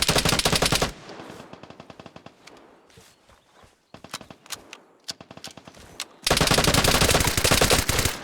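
Automatic gunfire in the video game Vigor, dense rapid bursts opening and closing the stretch, with scattered single shots and footsteps in between.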